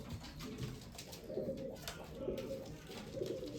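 Pigeons cooing inside a pigeon loft holding new breeding pairs, soft repeated low coos rising and falling over a quiet background, fairly faint and close by.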